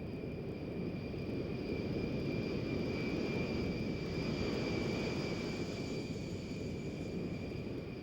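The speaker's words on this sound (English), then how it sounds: "This C-141 transport plane is approaching the same airstrip on which the C-124 landed" A C-141 transport plane approaching an airstrip gives a steady, broad engine roar with a high whine, holding at a moderate level throughout without any talk.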